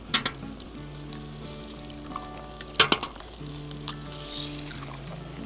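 Eggs cracked onto an oiled Blackstone griddle hiss with a soft, steady sizzle, broken by a few sharp clicks and taps of shells and a spatula, close and quiet under a low background hum.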